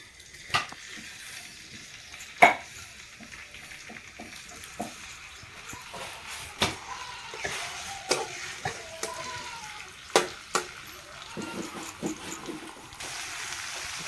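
Chopped ingredients sizzle in hot oil in a kadai for Maharashtrian sabudana khichdi, a steady close frying hiss broken by scattered sharp crackles and stirring clatters.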